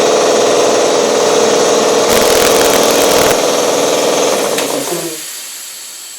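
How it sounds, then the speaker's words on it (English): A new Sanborn air compressor starts up for the first time, running loud and steady with a broad mechanical roar and rhythmic pumping, then winding down near the end. "Here's the first start of my new compressor."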